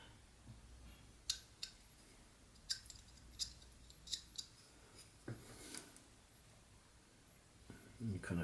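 A knife whittling chips out of a small wooden mouth carving, heard up close as a series of crisp, short cutting snaps spaced irregularly over a quiet, faintly hissing background, with a slightly louder scrape near the end.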